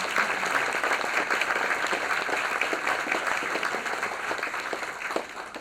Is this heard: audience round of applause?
yes